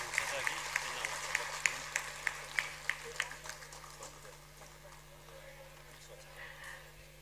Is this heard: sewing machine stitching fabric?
no